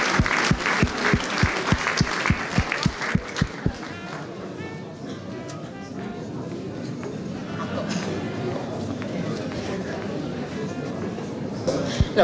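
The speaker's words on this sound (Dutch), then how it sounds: "Applaus alsjeblieft." Rhythmic clapping starts with distinct claps, then swells into steady applause from a crowd that continues for several seconds, with a few voices mixed in.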